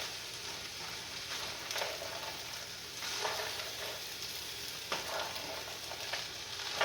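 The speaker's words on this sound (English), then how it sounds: "I won't season this until this starts frying good" Steady, close sizzling of vegetables frying in a pan, with occasional stirring scrapes and crackles, no voices.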